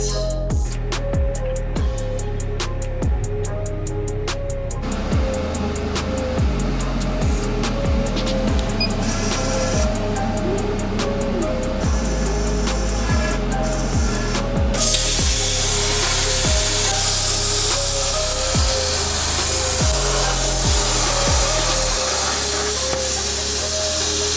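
A CNC plasma table cutting metal without coolant, hissing and whining steadily with rhythmic machine motor steps and a louder rush of spray in the second half, continuous and close, with no talking.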